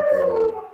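Dogs howl nearby in a single sustained, wavering howl that sounds loud and clear, fading slightly toward the end with no talk over it.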